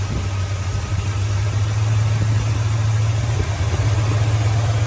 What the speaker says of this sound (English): I think just at a little bit of an idle like that, that should help me get home.